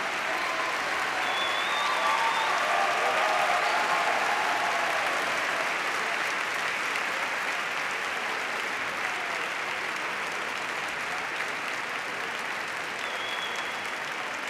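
Sustained audience applause fills a graduation ceremony hall, a steady dense clapping wash that holds loud and even for the whole stretch with no voices on top.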